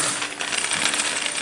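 Gold coins dropping and clinking together in a steady metallic jingle that runs throughout, bright and fairly close, with no voices.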